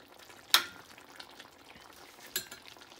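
Igado sizzling in a pan while it is stirred, a quiet steady frying hiss broken by two sharp clinks of a utensil against the pan.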